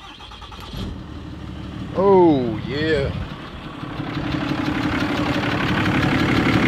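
A Cummins diesel truck engine cranks, catches and settles into a rough, steady idle that grows louder and more insistent over several seconds, with a voice briefly exclaiming partway through.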